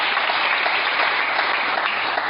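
A congregation in a French church bursts into sustained applause for the Lord, crowded, even clapping from many hands filling the hall for a couple of seconds.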